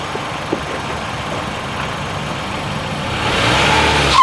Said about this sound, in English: Ooh, burning some rubber.